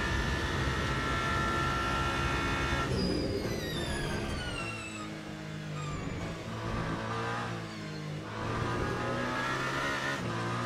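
A race car at full throttle in the racing game Le Mans Ultimate, its loud, whining engine climbing in pitch and dropping at each gear shift, then climbing again.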